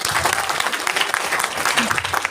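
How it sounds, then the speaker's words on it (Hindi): Audience applause at a group business event in Gurugram, dense and steady clapping from a crowd that fills the whole stretch at moderate loudness, with a faint voice underneath. "जबरदस्त तालियां"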